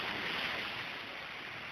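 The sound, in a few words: strong waves with wind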